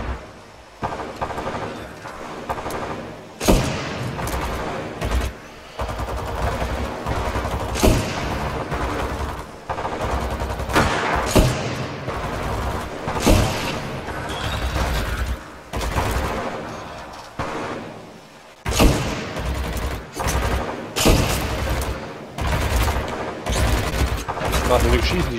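Gunfire in the video game Titanfall 2: repeated bursts of weapon fire, some rapid and some single, come in clusters with short pauses, and someone speaks German between shots.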